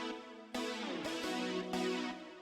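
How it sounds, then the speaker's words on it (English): A 1980s-style synthesizer part from a song plays bright, sustained chords. Sharp new attacks come at a steady pace over about two seconds, with no voice over them. "So the first synth sounds like this"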